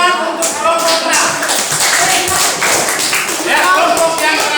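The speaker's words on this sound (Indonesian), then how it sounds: "Tepuk tangan untuk kelompok 6." A classroom of students claps for a presenting group, brisk uneven hand claps close by with voices talking and calling out over them throughout.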